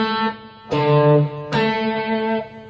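Cello playing sixteenth notes from the Prelude of Bach's Cello Suite No. 1, a few bowed notes with clear attacks at a slow lesson pace, close and resonant, no talking.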